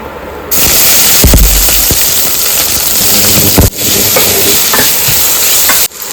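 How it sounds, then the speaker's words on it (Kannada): Chopped onions dropped into hot oil with mustard seeds and curry leaves for beetroot palya, bursting into a loud, close, continuous sizzle with stirring scrapes and a couple of abrupt breaks, no voices. "ಇವಾಗ ನಾನು ಕಟ್ ಮಾಡಿ ಇಟ್ಕೊಂಡಿರುವಂತಹ ಈರುಳ್ಳಿನ ಆ್ಯಡ್ ಮಾಡ್ಕೊತಿದ್ದೀನಿ"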